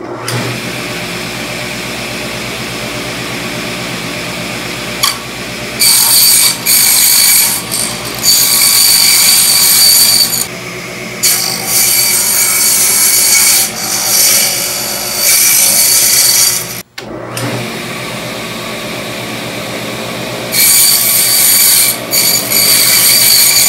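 A power saw cuts cork pieces for a dart frog vivarium background, running loud and steady with bursts of harsher high-pitched cutting as the blade bites, in several spells over the whole stretch.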